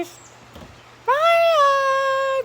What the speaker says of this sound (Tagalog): tingnan nyo naman ang ating mga pusa. Nakaabang na naman sila!